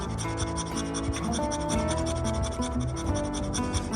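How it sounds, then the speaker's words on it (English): Resinous fatwood scraped with the spine of a knife to make fine shavings, a close, steady run of rapid rasping strokes that scratch continuously without pause. "Now, I can make my shavings."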